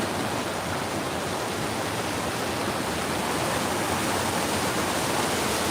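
Water rushes continuously through woods at night, a steady broadband roar like a stream or small waterfall, close and unvarying, with no voices.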